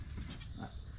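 Goats on a trailer give a short bleat or two, somewhat distant and muffled over low background rumble.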